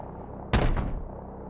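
A single loud gunshot blast with a short rumbling tail in Call of Duty: Modern Warfare Remastered, close and sharp against a quiet background.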